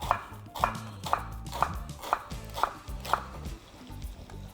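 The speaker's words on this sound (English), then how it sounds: "you just want to finely shred, as fine as possible, your cabbage" A knife chops cabbage rhythmically on a board, about nine evenly spaced crisp strikes, close and clear as it is finely shredded.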